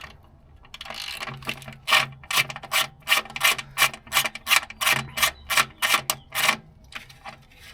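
Hand ratchet loosening the 10 mm transmission pan bolts on a 2019 second-generation Ford F-150 Raptor, a quick run of sharp, evenly spaced clicking bursts, close and clear with no talk.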